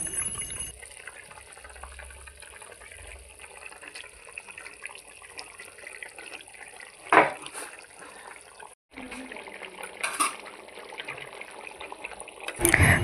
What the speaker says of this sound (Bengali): জল ফুটে উঠেছে, তাই এখন এক এক করে সবগুলো মাছ দিয়ে দেবো